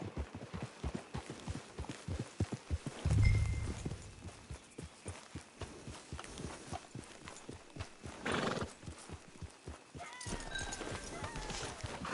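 Rhythmic clip-clop of horse hooves trotting at a steady pace in the video game Red Dead Online, with a horse whinnying partway through and faint voices underneath.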